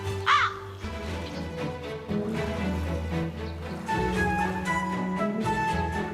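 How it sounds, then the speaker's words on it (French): Crows cawing in a forest: a loud, close harsh call near the start, then repeated caws over a busy background of other calls, with no talk. "Les corbeaux sont omnivores."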